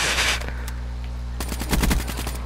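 Rapid automatic gunfire in the video game Call of Duty: Black Ops III, a loud opening burst followed by a pause and then another quick flurry of shots near the end.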